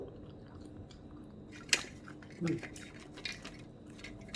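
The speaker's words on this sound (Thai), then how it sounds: "แม่น้อยกำลังจะกินส้มตำนะคะ" Someone eating papaya som tam salad, with soft close chewing and a few clinks of cutlery on a dish under quiet room noise.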